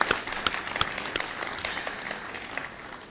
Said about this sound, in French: Est-ce que nous pouvons encore applaudir une fois de plus pour les profs?